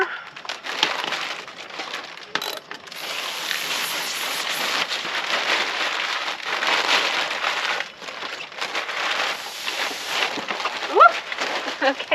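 Steady rain pattering onto a surface at a barndominium, a dense hiss of drops that stays loud and continuous with a few brief dips and scattered sharper taps.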